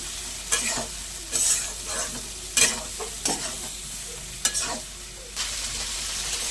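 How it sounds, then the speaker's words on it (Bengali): Fried potatoes and lentil fritters being sautéed together in a pan, with loud, close bursts of stirring and sizzling that come in an irregular rhythm of scrapes over a steady frying hiss, and no voices. "আমি মসুর ডালের যে বড়াগুলো করেছিলাম সেগুলো সব কিছু একসঙ্গে খুব ভালো করে কষে নেব।"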